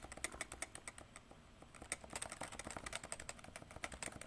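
Typing on a Cooler Master CMStorm Novatouch TKL keyboard with Topre switches, a quiet rapid patter of soft keystrokes in continuous bursts, with no voices.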